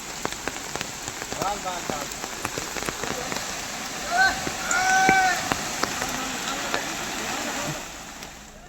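Heavy monsoon rain pours steadily onto surfaces outdoors, a dense continuous hiss with scattered drips and splashes, while faint voices sound briefly in the background.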